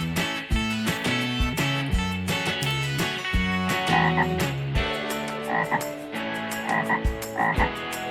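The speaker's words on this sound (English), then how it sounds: "Frog." A frog, presented among animal toys and animal sounds, croaks loudly and repeatedly in a quick, rhythmic series of close, resonant calls with no talking.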